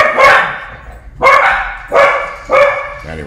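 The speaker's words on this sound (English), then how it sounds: "I think they're barking at themselves" Dogs bark sharply four times at a steady pace, close by and loud, with no talking.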